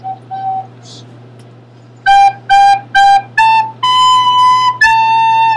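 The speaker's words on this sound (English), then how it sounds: "So the first two measures are going to sound like this." A single recorder plays a short melody: three quick detached notes, then a few longer rising and falling tones, clear and close, after a soft brief note or two.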